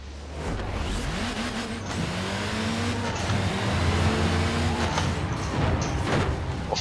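A rally-tuned car engine in Forza Horizon 4 with a manual gearbox, revving hard and climbing through gears in a loud, steady drive with rising and falling pitch and a brief tire squeal.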